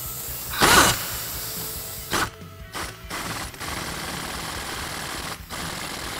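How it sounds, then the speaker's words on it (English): Spring compressor working on a Bilstein B16 rear coilover for a Mitsubishi Lancer Evolution X, heard as a nearby motorized whir with short bursts of mechanical rattling and brief pauses, no talking. "So a spring compressor comes back out."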